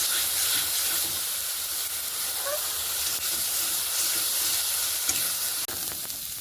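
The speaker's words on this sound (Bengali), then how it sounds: "এটাকে আমি সুন্দর করে নেড়ে নেবো, ভাজতে থাকবো।" Garlic and spice paste with a pinch of salt fries in a pan for Bangladeshi chicken curry, a loud steady hissing sizzle throughout with occasional faint stirring scrapes.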